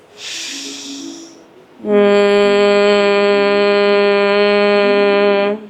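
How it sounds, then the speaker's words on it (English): A breathy inhale through the nose, then a long steady hummed tone held evenly on the exhale, close and loud. "as you exhale, you're gonna hum it out"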